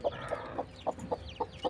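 Hens with a brood of chicks cluck in short, evenly spaced pulses, about seven soft clucks close by, with faint high chick peeps in the background and no speech.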